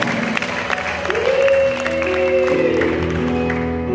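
A church congregation in a worship service bursts into applause, a steady wash of many hands clapping together over sustained tones from music in the room.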